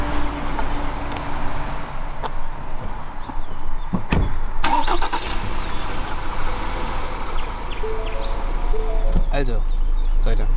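A pickup truck engine starts and then settles into a steady, low idle rumble nearby, with a few sharp knocks and clicks, while a person talks over it.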